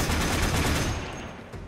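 A volley of gunfire from the Warframe video game crackles as a loud, dense burst of overlapping shots, sustained and close with a slight tail-off at the end.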